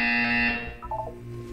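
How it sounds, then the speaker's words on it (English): An electronic buzzer in the Portal 2 video game sounds a loud, sustained tone for about half a second, then fades into a quieter background hum. "You will hear a buzzer."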